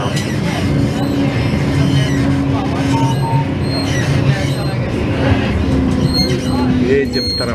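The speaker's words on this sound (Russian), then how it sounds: "Едем трамвай по Амстердаму." On board a tram rolling through Amsterdam, Netherlands: a steady, loud rumble of wheels and car body with a sustained electric motor whine, occasional faint squeals, and voices murmuring in the background.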